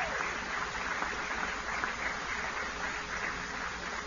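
Muffled, distant applause from an invitation-only crowd at a Vice President Pence rally in Lexington, Kentucky, greeting Governor Matt Bevin: a steady, faint, continuous patter of many hands.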